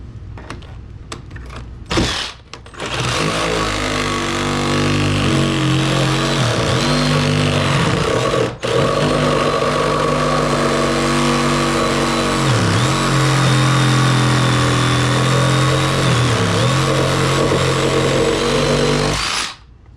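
Power saw fitted with a spider blade cutting into a 140-year-old hardwood maple floor, a loud, steady whine and grind running nearly the whole time with a few brief pauses and shifts in pitch near the start and middle.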